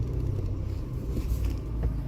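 A car creeping forward in first gear on the clutch alone, with no added throttle, heard from inside as a low, steady engine rumble with faint scraping and small bumps.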